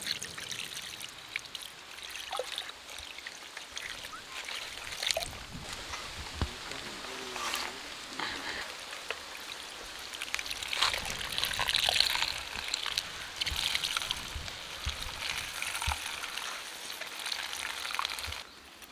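Water is poured over strained chenna (curdled milk) in a cloth to rinse out the lemon juice while making rasgulla, giving a steady trickling, splashing pour that continues for about nineteen seconds with no talk.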